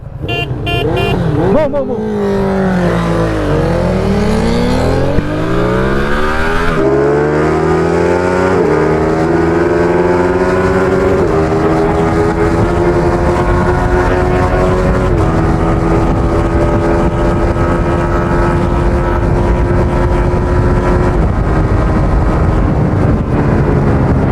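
A Ducati Streetfighter V2 motorcycle accelerates hard, its loud engine note climbing steeply through the gears with sweeping rising pitch after an abrupt start, then holding a steady high-speed drone.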